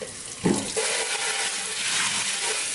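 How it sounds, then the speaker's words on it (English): Tap water runs steadily into a plugged sink holding a little detergent, ready for washing miniatures; a brief splash starts a continuous, close, even hiss of flow with no talk. "Run a little bit of water in there."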